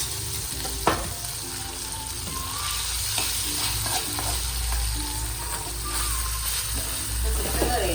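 Curry leaves crackle and sizzle in hot oil in a chicken curry pan while being stirred, a steady frying hiss with intermittent scrapes and clinks of the spoon, moderately close.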